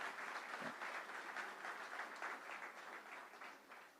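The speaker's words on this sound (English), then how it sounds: "Let's give them a round of applause." Steady audience applause at a university press conference introducing a new head football coach, continuous moderately distant clapping from a crowd throughout, with no talk over it.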